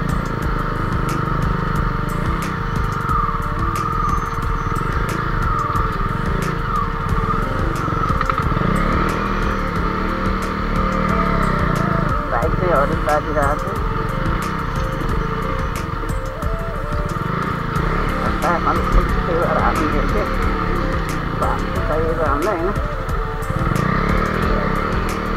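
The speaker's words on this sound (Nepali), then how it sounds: "अगाडि बाइक छ हैन त्यही भएर कुदाउनु पाएन" Motorcycle cruising along a countryside road, its engine droning steadily and fairly close throughout with small shifts in pitch, no talking over it.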